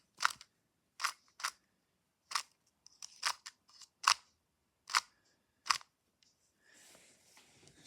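Quick plastic clicks and snaps from a 2x2 Rubik's cube being turned through an algorithm, about eight sharp separate turns in an uneven rhythm, close and clear, ending in a soft rustle of handling.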